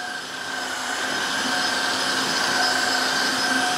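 Tineco Floor ONE S3 wet dry vacuum mop cleaning up spilled milk, a steady loud motor whine with airy suction and a faint tonal hum, running continuously and close up.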